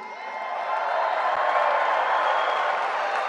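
A big crowd at a Tennessee Republican political rally roars with sustained applause and cheering, a dense, steady wash of clapping and voices that swells over the first second and then holds loud and unbroken.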